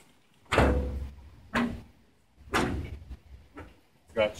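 Doors of a homemade smoker built from an old pizza warming oven, opened and shut in a string of four or five thuds and clanks at close range, each a short metallic knock with brief rattle, no talk.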